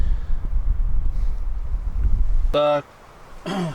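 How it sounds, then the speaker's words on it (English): Strong, cold winter wind buffets the microphone with heavy low rumbling gusts through a solo overnight bushcraft camp, then cuts off abruptly as a voice speaks briefly near the end. "It's that wind chill though, it's savage."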